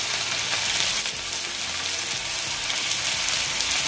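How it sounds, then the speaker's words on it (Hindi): Spice powders with turmeric roast in a hot pan for parval bhujia, giving a bright, even sizzle that runs steadily and fairly loudly throughout, with no talk over it. "ब्राउन होने तक मैं भूनूंगी पाउडर को"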